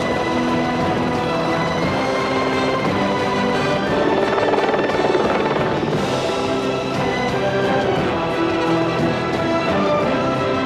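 Continuous rotor and engine roar of a helicopter on Mount Jackson, steady and loud throughout, with a slight swell midway and no voices.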